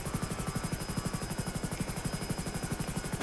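A video game helicopter drones with a fast, steady rotor chop, pulsing evenly throughout at moderate loudness with no talk over it.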